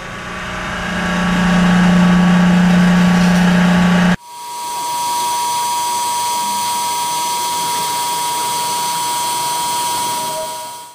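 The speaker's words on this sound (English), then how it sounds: "I'm going to tear up a giant piece of steel tubing here and kind of show you the press in action." Redline hydraulic shop press, 150 or 200 ton, straining against giant steel tubing, with a loud steady whine that cuts off abruptly and then resumes as a continuous mechanical hum.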